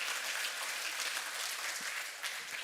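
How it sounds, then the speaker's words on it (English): A conference audience at DevOpsDays Eindhoven 2023 claps in a continuous, even burst of applause, filling the room at moderate distance. "let's give a warm round of applause to Dominic."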